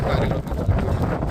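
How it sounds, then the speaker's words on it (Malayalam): Strong wind buffets the microphone at Budaiya public beach in Bahrain, a loud, continuous low roar and rumble with gusty swells and no pause. "കാറ്റടിക്കട്ടെ. കാറ്റ് രക്ഷയില്ല."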